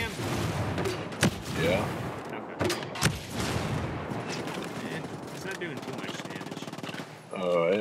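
A grenade launcher fires during a firefight in Ghost Recon Breakpoint: loud, booming shots and bursts of rapid gunfire, with someone talking over the action.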